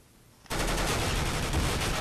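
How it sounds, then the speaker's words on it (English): Shotgun fire in the Counter-Strike video game cuts in abruptly after a quiet moment, becoming a loud, dense, continuous burst of gunfire that holds steady until the end. "Was that a shotgun again?"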